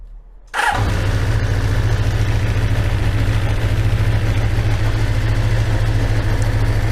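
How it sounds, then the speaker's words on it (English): Motorbike engine started after a brief quiet moment and then idling at around 1500 revs, a loud, steady, close mechanical rumble with even pulsing during carburetor synchronisation work. "I'm just going to start her up. I've set it so that the revs are around 1500"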